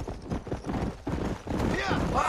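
Horse hooves clip-clop steadily in Red Dead Redemption, close by and mixed with a brief whinny, while someone talks over the riding.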